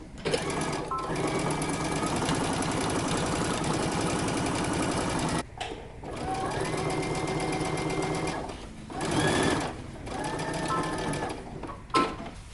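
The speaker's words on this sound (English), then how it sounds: "And then we're going to sew using 5/8 of an inch seam allowance" A sewing machine stitches a jacket sleeve seam in steady, rapid mechanical runs, loud and close, pausing briefly twice before resuming.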